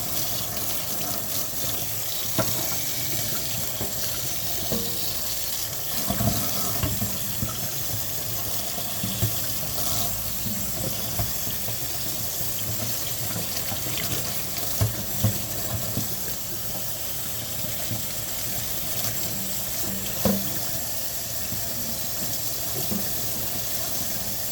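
Very warm water runs steadily from a tap into a sink, a continuous hissing splash that lasts throughout, with occasional small knocks and clatters over it and no talking.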